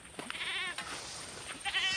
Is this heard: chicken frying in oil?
no